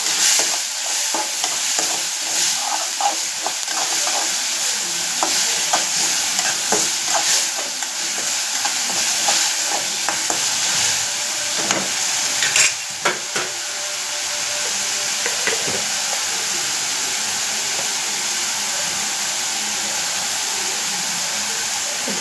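Tomato and onion being stirred in a frying pan, a steady sizzle with repeated scraping and clinking of the spoon throughout, close and fairly loud, with no talking.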